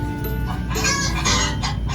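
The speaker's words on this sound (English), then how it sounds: "Rooster." Rooster calls loudly and close, clucking and crowing bursts filling the whole two seconds without talk.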